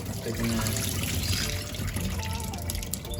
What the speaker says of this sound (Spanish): Después de haber pasado los 10 minutos, quitar el agua